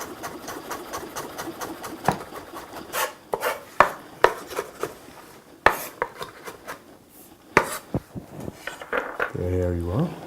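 A knife chops orange-fleshed sweet potato on a cutting board in rapid, uneven close-up strikes, sharp taps scattered over ten seconds with some kitchen rattling and a brief voice near the end.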